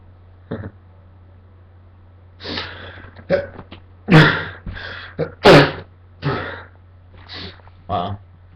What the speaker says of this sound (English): That was a funny sneeze.